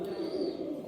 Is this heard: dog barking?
no